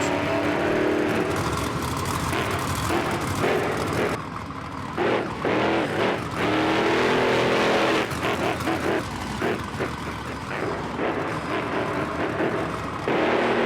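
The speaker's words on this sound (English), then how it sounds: "Going for a big sky wheelie past vertical." El Toro Loco monster truck engine roars through a sky wheelie in a skills challenge at a Monster Jam show in New Orleans, a loud sustained engine with revving swells and crowd-arena wash, no talk.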